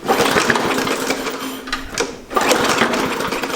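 Lawn mower engine being cranked, a fast mechanical chugging whir from the starter, close and loud, with a brief break before cranking resumes.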